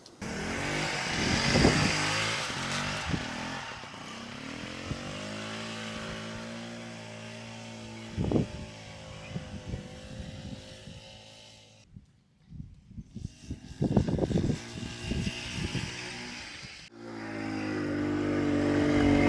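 A Velo Vap front-wheel-drive French moped, missing a rod, runs and revs on a test ride, its small engine buzzing in bursts that rise and fall, with a brief drop-out midway, close and loud.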